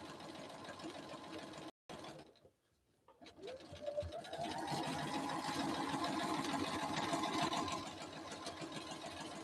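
A sewing machine stitches fabric with a steady, fast mechanical whir close by, starting after a brief silent pause and continuing evenly to the end.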